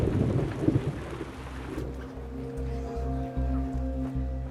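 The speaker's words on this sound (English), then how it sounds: "back at the airbase, a thunderstorm has struck." Thunderstorm over an airbase: heavy rain hisses steadily while low rumbling pulses roll beneath, loud and close, with no voices.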